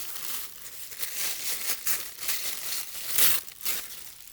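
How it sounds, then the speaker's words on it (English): White paper is ripped by hand in several close, crisp tearing and crinkling bursts, loud and alone with no talking. "I'm going to rip a little of my white."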